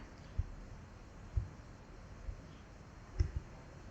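Several soft, quiet keyboard key clicks spaced about a second apart, with a double tap near the end, in a quiet room.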